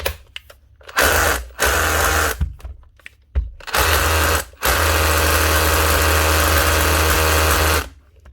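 A customer's hammer drill, used for chiselling and reported to keep shutting down, runs loud and close in several bursts, starting and stopping with short gaps before a long sustained run.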